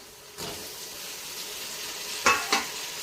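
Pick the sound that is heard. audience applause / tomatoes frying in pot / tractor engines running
tomatoes frying in pot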